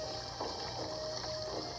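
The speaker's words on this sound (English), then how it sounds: "Ooh, water." Steady water ambience in the Animal Jam video game, a continuous gushing flow with faint rhythmic swells and a thin tonal line, heard alone with no talk.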